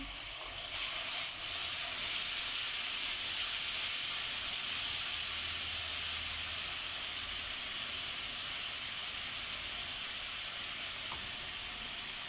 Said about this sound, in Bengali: এখানে আমি আদা রসুন বাটা দিলাম